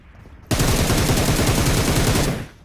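Gunfire in a battle royale video game, a single loud sustained burst of rapid automatic fire lasting about two seconds, close and dense, starting abruptly and tapering off at the end.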